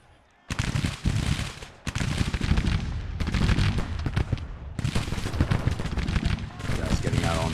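Dense battle din from a Grand Tactician: The Civil War engagement, cannon and massed musket fire crackling and booming almost without pause after a brief quiet start, loud and continuous with short breaks.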